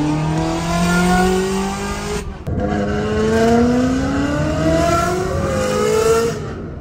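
A Ferrari supercar's engine revs loudly close by, rising and falling in pitch through several pulls, with a brief dip in the middle before climbing again.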